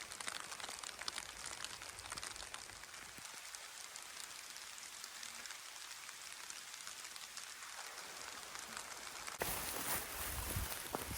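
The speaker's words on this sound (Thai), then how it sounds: "ฝนเนี่ยดันตกลงมาให้ก่อนนะครับ" Rain patters steadily outside a small hut in a cassava field deep in the forest, a dense continuous hiss of drops with a heavier burst near the end; no voices.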